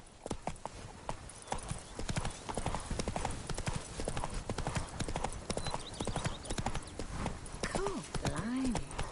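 In The Witcher 3, a horse clip-clops along in a quick, even hoof rhythm, near and clear, and it whinnies toward the end. Voices talk over the hoofbeats.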